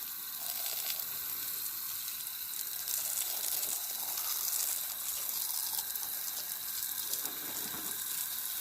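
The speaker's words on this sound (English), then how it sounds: "looks like wetting down sawmill's gonna be my evening" Water spraying steadily onto a Wood-Mizer sawmill after a fire, a continuous, even hiss of hose spray without pauses, fairly faint and heard alone without voices.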